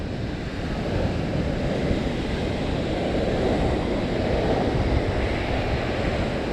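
Sea waves wash steadily onto a sandy beach at Nha Trang, Vietnam, with wind buffeting the microphone in a constant, loud roar and no pauses.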